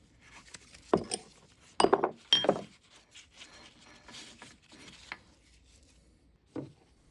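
A part is spun off a Troyke 12-inch rotary table during disassembly: scattered metallic knocks, clunks and grinding scrapes, close and moderately loud, with quiet gaps between.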